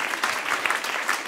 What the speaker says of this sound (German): Geben wir ihm jetzt einen herzhaften Applaus.